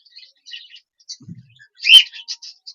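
Scattered short chirps and tweets from small pet birds nearby, with one louder call near the end amid quiet gaps.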